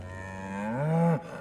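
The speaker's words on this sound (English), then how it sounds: "That is not the correct sound for a sheep" A sheep in the Baldur's Gate 3 video game lets out a single cow-like moo, one loud, drawn-out low call that swells, bends in pitch and cuts off sharply.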